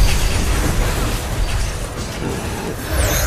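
Turret-destruction explosion in the mobile game Mobile Legends, a dense, sustained rumbling blast filling the whole moment with no talk over it.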